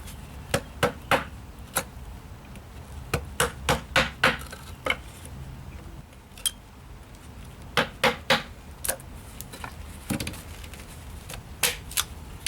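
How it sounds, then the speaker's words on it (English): Dry pinewood being chopped down to make a bowdrill spindle: a steady run of sharp, close wooden knocks, some in quick pairs and clusters, with brief pauses between strikes. "So we'll just chop it down."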